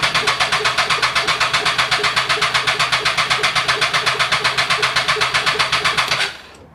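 Triumph Daytona motorcycle engine cranking on the starter without catching, a steady fast rhythmic churn close up that runs for about six seconds and then stops.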